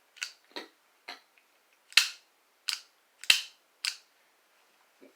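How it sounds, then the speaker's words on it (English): Sharp mechanical clicks from a Taurus G2C pistol's trigger and internal parts, about eight distinct close snaps spaced irregularly with brief silences between, no talking. "watch this part right here when I pull the trigger"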